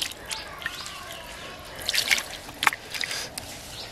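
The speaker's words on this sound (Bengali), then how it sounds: "এবার একটু ছানাটার মধ্যে আমি জল দিয়ে দিচ্ছি" Water trickles and drips onto fresh chhana cottage cheese, with faint, intermittent splashes and small droplets close by, building briefly in the middle before thinning out.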